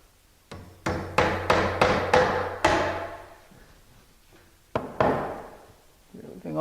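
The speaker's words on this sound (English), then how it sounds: "what we're going to do is we're going to nail from here into this other stud" Hammer driving a nail through framing into a wall stud while an opening in a non-load-bearing wall is enlarged: a quick run of six sharp, ringing blows, then a pause and two more strikes, close and loud.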